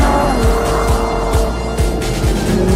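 Ferrari LaFerrari V12 engine roaring loud and close, a dense, sustained howl with rapid revs rising and falling as the car accelerates, plus a hint of tire squeal.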